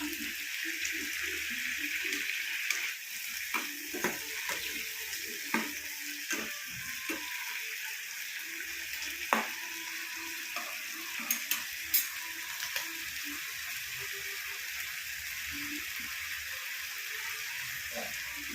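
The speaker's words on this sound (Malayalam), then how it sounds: "ഉള്ളി തേങ്ങ പച്ചമുളക് ഇഞ്ചി കരിയാപ്പില എല്ലാം കൂടെ വഴറ്റിയെടുക്കാം" Onion, coconut, green chili, ginger and curry leaves sauté in a pan for a Kerala-style prawn curry, with a low steady sizzle broken by intermittent spatula scrapes and clinks, close and moderately quiet.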